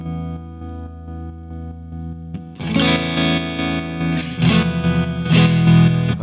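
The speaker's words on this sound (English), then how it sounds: "So this sounds a lot more like the tremolo I've got in my old vintage valve amps." An electric guitar runs through a Sonicake Matribox's bias trim tremolo, a choppy valve-amp-style pulsing. A held chord is followed by louder, brighter strummed chords that throb in rhythmic waves.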